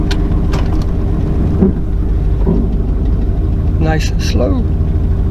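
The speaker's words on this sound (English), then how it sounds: "let's back it down off the ramps now" A 1993 Chevy Camaro Z28 with a newly replaced transmission mount backs slowly down off garage ramps, its engine a steady low idle rumble throughout, with someone talking over it.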